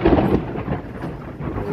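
Heavy rain pouring in Bengaluru, a dense, steady roar of rainfall that stays loud and even for the whole stretch, with no voices.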